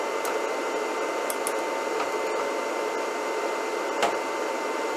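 Heat gun blowing 400-degree air onto a nut locked with Loctite, a steady loud airflow roar close to the microphone with a few faint clicks and ticks, no talking.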